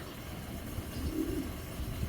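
Soft low cooing of racing pigeons, a gentle rolling call rising midway over a quiet background.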